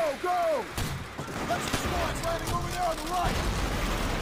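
Bursts of Call of Duty: World at War gunfire crackle and boom in quick succession, layered with a voice talking over the chaotic shooting.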